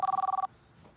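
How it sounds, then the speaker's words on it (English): A telephone in a radio studio rings with a quick electronic trill lasting about half a second, then cuts off into quiet room tone. "That's the phone."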